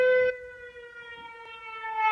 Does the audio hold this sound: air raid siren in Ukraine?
yes